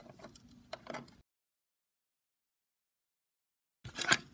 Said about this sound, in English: I'll take the other wrench to rotate this clockwise